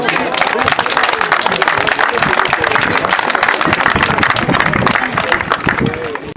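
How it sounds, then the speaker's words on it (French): Steady, dense applause from a crowd at a decathlon athletics event, a continuous wash of clapping with voices talking over it throughout. "Là, on peut l'applaudir."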